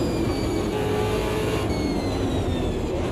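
A race car engine in the Automobilista 2 racing game, droning loud and steady as it downshifts, with pitch lines sliding downward through the gears and no pauses.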